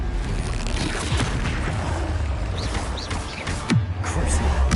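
A fiery Confringo spell blast goes off amid a dense, noisy stretch of Hogwarts Legacy combat, with dull booms and whooshing bursts layered over a constant loud din.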